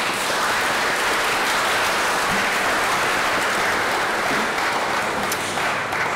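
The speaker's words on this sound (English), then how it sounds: "why don't we clap them?" A congregation at a bishop's installation service in Rockhampton claps for the admin support staff, a dense, uniform wash of applause that stays loud and steady throughout with no talk over it.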